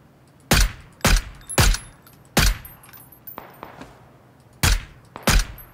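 MK14 rifle shots in the battle royale game Battlegrounds, six or seven sharp, loud single cracks spaced irregularly, with faint quieter pops and clicks between them.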